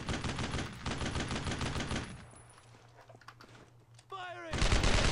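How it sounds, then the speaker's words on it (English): Rapid gunfire from a World War II squad shooter game, dense bursts of shots filling the first two seconds, then a quieter lull before more loud firing returns at the end. "Firing! Firing!"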